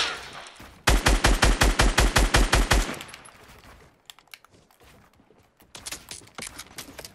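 Gunfire in the Fortnite video game: a rapid burst of about a dozen sharp, evenly spaced shots, then a pause and a few scattered, quieter shots and clicks.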